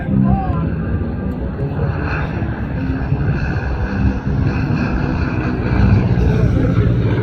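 A low-flying airshow plane roars past during a mock bombing run at the Flying Circus Airshow in Midland, Virginia, its engine drone loud and continuous throughout, with a busy open-air crowd and commentary blending underneath.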